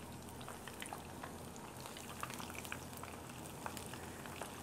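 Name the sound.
battered chicken frying in a pan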